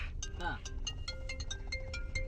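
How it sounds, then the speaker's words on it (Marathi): A phone ringtone plays a repeating melodic pattern of bright electronic tones at moderate level, with background noise and some voice underneath. "फोन आलाय का झालं"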